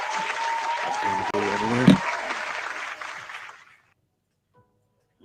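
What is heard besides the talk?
applause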